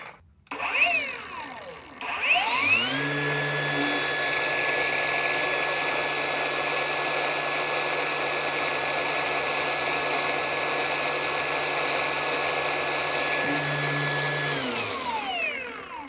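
An INGCO CAGLI1002 cordless brushless angle grinder spins up and runs free with no load, a loud steady high whine that holds for about twelve seconds before winding down, no voices over it.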